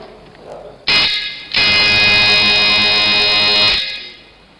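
A light-sensor automatic switch circuit sounds its alarm buzzer: a loud, steady electronic tone that cuts in briefly, drops out, then returns and holds for about two seconds before stopping, with no talk over it.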